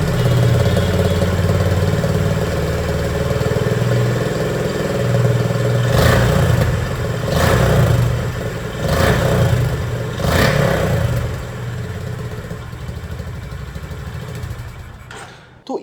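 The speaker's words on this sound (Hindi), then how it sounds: "अब मैं आप लोगों को यहाँ पर CB350 की जो आवाज़ है वो भी सुना दूँ।" A Honda CB350 motorcycle engine idles steadily, then revs sharply four times in a row before settling back to a low idle, loud and close.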